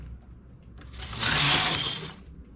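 A domestic knitting machine carriage runs across its bed while stitches are lowered by hand for a bell sleeve, giving a single close whirring sweep that swells for about a second in the middle and then fades.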